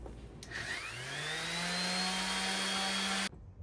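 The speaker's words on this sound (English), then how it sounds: "So now I just gotta sand everything." A power sander whirs up and runs steadily for a few seconds against wood, then cuts off abruptly.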